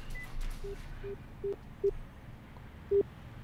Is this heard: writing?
no